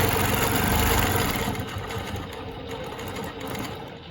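A longarm quilting machine stitches Baptist fan patterns guided by rulers, a steady loud mechanical whir with a fast stitching pulse that runs unbroken and eases slightly in the last seconds.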